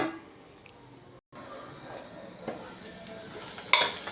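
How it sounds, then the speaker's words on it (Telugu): Cashews fry in a pan for a paneer curry, a soft steady sizzle with light stirring scrapes and an occasional clink of a utensil against metal, close and quiet with no talking. "కొంచెం జీడిపప్పు బ్రౌన్ కలర్ వచ్చినంత వరకు వేగాలి"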